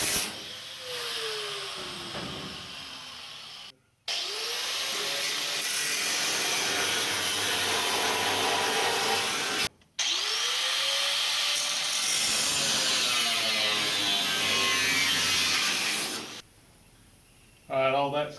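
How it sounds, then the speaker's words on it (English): A cut-off wheel grinds through a weld on the radiator support of a 1966 Ford Bronco, a loud continuous abrasive whine and hiss with wavering pitch, broken by two brief stops before it winds down near the end. "I'm just going to reach in there with a cut-off wheel and cut this off"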